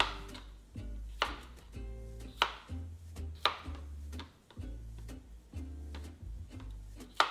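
A knife chops cucumber on a board in a quiet kitchen, about a dozen crisp, separate thuds at an uneven, unhurried pace.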